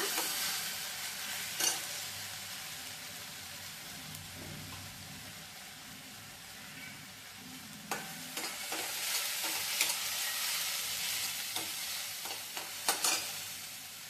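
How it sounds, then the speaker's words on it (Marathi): Masala sautéing in oil until the oil separates, a continuous close sizzle with soft scraping stirs throughout and a cluster of sharp utensil clicks toward the end, no talking. "चांगलं तेल सुटेपर्यंत आपल्याला याला परतून घ्यायचं आहे"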